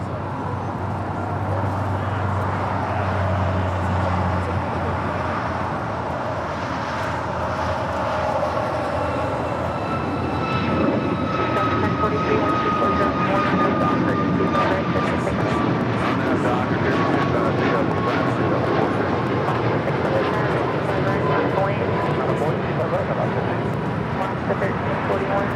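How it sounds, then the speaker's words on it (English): A JetBlue Airbus A321 jet arriving at LAX on its approach from Boston, a loud, continuous engine roar with a descending whine that holds steady across the whole stretch, heard up close at the airport. "That is JetBlue Airways Flight 387 coming in from Boston in this A321."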